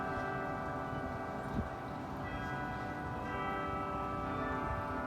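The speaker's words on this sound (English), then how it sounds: "Those bells are from the 1200s." Centuries-old church bells at the Mission Inn in Riverside, California sound with a sustained, resonant ringing hum that lingers evenly, marked by one small knock early on.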